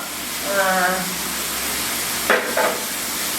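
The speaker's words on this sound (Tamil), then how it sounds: "இப்போ எல்லாமே எண்ணெயில் நல்லா வதக்கிட்டோம்" Ginger and garlic sauté in oil for a wild mushroom curry, a steady close sizzle with two brief stirring scrapes near the end. A voice is heard briefly early on.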